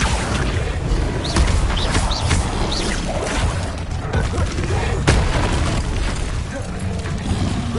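Hogwarts Legacy Incendio fire spell going off repeatedly, dense booming bursts and crackling blasts layered with game effects, loud and continuous, with a voice faintly present.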